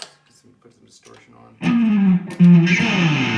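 A Chinese copy of a PRS electric guitar with fresh strings plays a few quiet clean notes, then loud, sustained distorted chords ring out close and bright.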